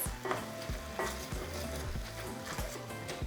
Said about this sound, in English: Just going to mix it all together and allow it to cook for a couple minutes.